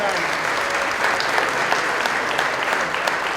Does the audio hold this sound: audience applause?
yes